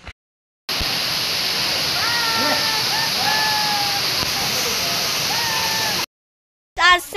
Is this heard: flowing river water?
yes